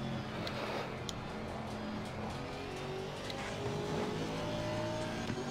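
A Porsche race car in Assetto Corsa Competizione at Brands Hatch gives a steady, droning engine whine as it passes, with a faint tonal rise and no voices.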